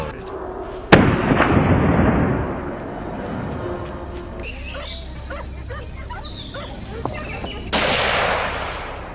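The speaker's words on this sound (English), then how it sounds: "And with a single gunshot," One loud rifle shot at a small wild boar on a leafy New South Wales trail cracks out sharply and echoes away, followed by a dog's barks and then a second loud burst near the end.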